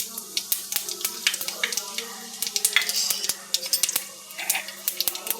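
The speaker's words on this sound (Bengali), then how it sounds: "কড়াইয়ে তেল দিয়ে দিয়েছি, তেল গরম হয়ে গেছে। ফোড়নে দিয়ে দিলাম 5 ফোড়ন।" Five-spice tempering sizzling in hot oil in a wok, with sharp crackles and pops bursting repeatedly over a steady hiss, close and fairly quiet.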